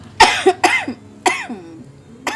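Four sharp coughs in a row, close and fairly loud, with short pauses between them and no speech.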